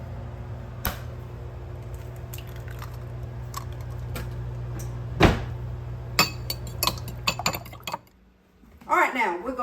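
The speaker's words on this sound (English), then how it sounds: "while the butter's melting, we need 3 eggs slightly beaten" Eggs beaten in a bowl for coconut custard pie, with scattered utensil clinks and taps against the dish over a low hum, near and moderate, ending in a brief voice.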